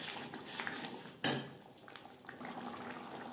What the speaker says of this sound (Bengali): হাফ চামচ গরম মশলা পাউডার, কাসুরি মেথি ও গরম মশলা পাউডার বেশ ভালো করে মিক্সড করে দেবো।